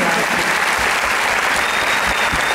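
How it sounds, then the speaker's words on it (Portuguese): A live audience applauds a saxophone, transverse flute and vocal performer at a concert: steady, dense clapping that fills the whole stretch at an even loudness, with no voices over it. "Salva de palmas pra ele."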